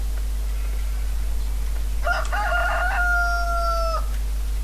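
A single synthetic-sounding rooster crow from Landwirtschafts-Simulator 2013 rings out clearly over a steady low electronic hum, lasting about two seconds.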